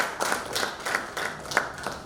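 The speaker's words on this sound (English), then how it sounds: "can we give her a louder round of applause for such an inspiring speech?" Audience applause after an inspiring speech at an International Women's Day 2021 event of the Nigerian Institute of Quantity Surveyors, a thin scattering of hand claps with a few sharper individual claps standing out, moderately close.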